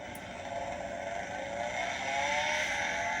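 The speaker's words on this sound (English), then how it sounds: "It's the sound of a car revving up and accelerating." Electronic car sound from a button on a Berg pedal go-kart toy: a playback of an engine revving and accelerating, steady and rising slightly in loudness, alone without talk.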